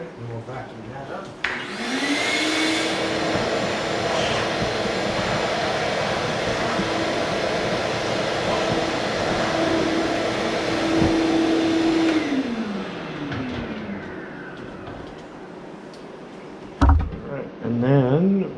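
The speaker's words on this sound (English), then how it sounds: "we'll vacuum that up" A shop vacuum sucks up sawdust at a workbench while a table saw workstation is being built, a loud steady drone running about ten seconds then winding down, followed by a couple of knocks.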